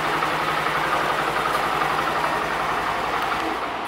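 Honda MSX motorcycle, freshly delivered with about 13 km on it, idling steadily after a remote start from an anti-theft alarm system, a continuous close engine rumble with no speech.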